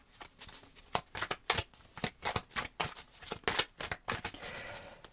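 Tarot cards are shuffled and drawn by hand for a weekly reading, a series of crisp riffling bursts and flicks in an irregular rhythm, close up with no voice over them.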